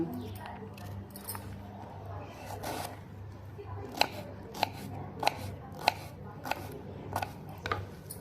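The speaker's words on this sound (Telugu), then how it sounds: "దొండకాయ ఇలా సన్నగా తరుక్కోవాలండి" A knife finely slicing ivy gourd (dondakaya) on a board for curry, giving a run of sharp, close chopping clicks spaced about half a second apart, with faint background hum and brief speech at the start.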